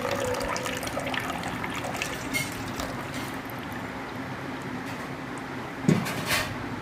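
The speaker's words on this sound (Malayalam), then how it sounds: "ഈ തെളിഞ്ഞ വെള്ളം മാവടിഞ്ഞിട്ട് തെളിഞ്ഞ വെള്ളമാണ് നമ്മൾ ഒഴിച്ച് കളയുന്നത്" Clear water poured off settled homemade arrowroot starch makes a steady, close trickling splash that runs continuously, with a brief louder splash near the end.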